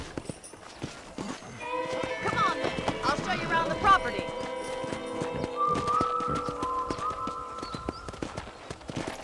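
Horse hooves clip-clop in the Red Dead Redemption video game, a steady walking rhythm running under continuous speech and background music throughout.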